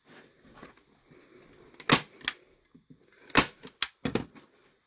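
A staple gun fires staples through fabric stretched over a mini ironing board, giving several sharp, loud snaps spaced a second or two apart, a few in close pairs, with quiet handling noise between.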